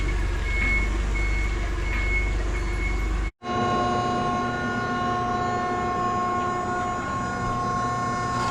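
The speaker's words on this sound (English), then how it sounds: "Grab the forklift and bring it over to the shear table." A forklift's reversing alarm drones as a steady, loud electronic tone in a metal fabrication shop where quarter-inch steel plate is cut on a shear table, broken by one brief dropout partway through.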